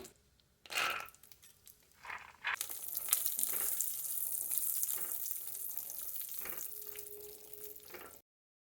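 Cashews dropped into hot ghee in a home kitchen pan: a few soft clinks first, then a loud, continuous crackling sizzle that holds steady for several seconds before stopping abruptly.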